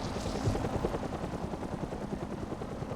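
A patrol helicopter in the survival video game Rust sends a dense, chopping rotor roar, steady and fairly loud, with faint rapid gunfire-like crackle mixed in and no talking.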